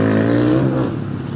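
An XR motorcycle engine revs loudly and steadily up close, its low harmonic drone rising slightly before easing off, with no voices over it.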